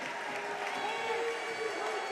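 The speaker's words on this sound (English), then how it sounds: "ovation from the crowd and his teammates as he steps out." A crowd and teammates give a sustained ovation at a Seton Catholic versus Arcadia high school boys basketball game, a steady wash of applause and cheering filling the gym under a commentator's voice.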